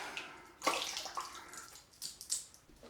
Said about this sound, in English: let's squeeze out the brush